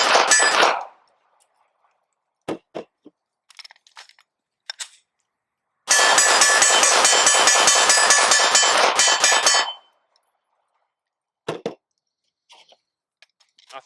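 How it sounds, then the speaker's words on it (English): A Canik TP9SF pistol is fired on an outdoor shooting range. One loud blast is followed by scattered sharp clinks, then about four seconds of dense, rapid-fire reports, then more clinks, with no talking. "we're going to continue sending rounds downrange."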